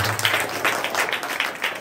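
Applause for a student at a school naat competition, dense, rhythmic clapping from a crowd, loud and sustained with pulsing swells throughout and no talking over it.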